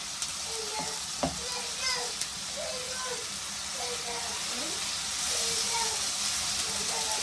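Egg and goat brain masala sizzles and hisses steadily in a hot pan, dhaba style, with occasional stirring clinks and a voice talking over the frying.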